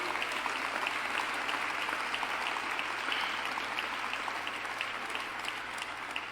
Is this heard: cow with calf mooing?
no